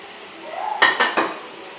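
Grated coconut going into a mixer jar, with a brief scrape followed by three quick, close metallic clinks of a spoon knocking against the jar in a quiet kitchen.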